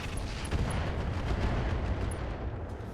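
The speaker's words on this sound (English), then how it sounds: "We'll guarantee it with the Rocket 20. Firing on target." In the RogueTech game, a Rocket 20 missile volley fires and explodes as a dense, loud rumble of blasts and booms that rolls continuously and then eases off slightly at the end.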